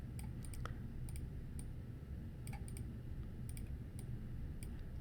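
A computer mouse clicks lightly and irregularly during 3D modeling work, faint clicks scattered over a steady low background hum with no talking.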